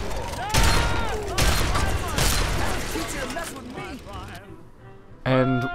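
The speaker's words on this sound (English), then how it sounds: "The shotgun. It's a powerhouse, and just listen to the noise it makes" Shotgun blasts in the video game Fallout 3, three loud booming shots roughly a second apart, each followed by echoing debris and clatter, with someone talking faintly under them and a voice cutting in at the end.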